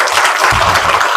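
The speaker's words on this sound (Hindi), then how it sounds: "सभी करतल ध्वनि से दीदी जी का स्वागत करेंगे।" Audience at a Brahma Kumaris centre gathering clapping to welcome a guest, a dense, loud, continuous round of applause throughout.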